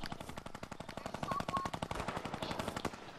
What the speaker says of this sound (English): where you getting shot from?